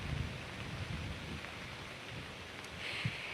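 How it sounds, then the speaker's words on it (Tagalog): Steady rain pours across part of Ilocos Norte during a typhoon, a dense continuous hiss with a few heavier gusts and low rumbles underneath, no voices present. "nakakaranas na ng pag-ulan sa ilang bahagi ng Ilocos Norte"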